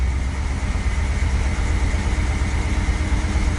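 Rebuilt engine running at a steady idle after assembly, a continuous low rumbling drone with a fast even pulse, close and fairly loud, no speech.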